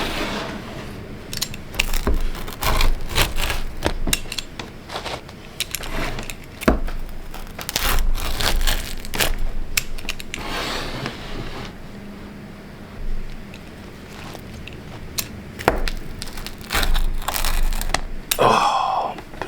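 A knife or cutter slices through a tall-crusted cast iron pan pizza, giving close, crunchy crackles and crushing sounds in irregular bursts, with a few brief pauses between cuts.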